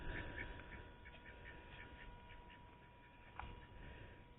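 Ducks quack in a front yard garden with swales and a willow tree, a faint series of soft, rapid quacks over low background noise.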